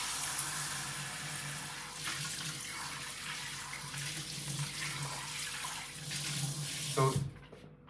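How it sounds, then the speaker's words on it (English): Tap water running while dishes are rinsed at a kitchen sink, a steady close splashing stream with shifting clinks and gurgles, ending with the flow cut off abruptly. "Then rinsing this one as well."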